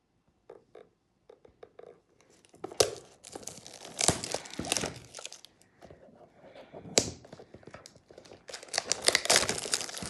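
Plastic or cardboard packaging crinkles and tears in bursts as a box of a natural respiratory product is opened, with rustling handling noises and a few sharp rips, fairly close and loud.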